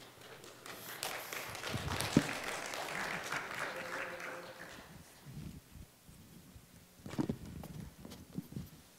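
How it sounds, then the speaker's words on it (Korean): A church congregation claps to welcome a pastor to the stage, uneven and moderately loud at first, then thinning into scattered claps and taps. "목사님 나오실 때 여러분들 박수로 환영해 주시면 감사하겠습니다"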